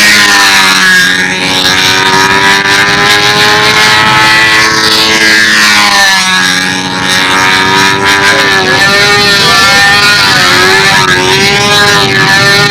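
A model Seafire airplane's small glow engine screams loudly and continuously at a Westover AFB contest, its high harmonic whine rising and falling in pitch as the plane circles past, with no talk over it.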